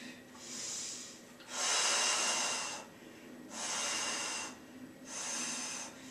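Slow, deep breaths during a yoga pose, four long airy inhales and exhales in a steady rhythm, close and fairly quiet.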